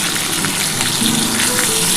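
Ground paste of mustard seed and sesame with coriander leaves, tomato and green chilli hits a hot frying pan for a Bengali bean-leaf paturi, giving a steady close broadband sizzle that holds for two seconds without talk.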